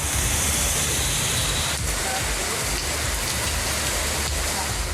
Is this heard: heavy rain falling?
yes